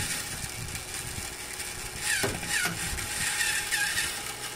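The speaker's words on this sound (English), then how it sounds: "when you turn on the toggle switch, the Genoa gear starts to rotate." A Geneva gear mechanism driven by a DC adapter runs with a steady low whir and a couple of sharp clicks partway through, set against constant background noise.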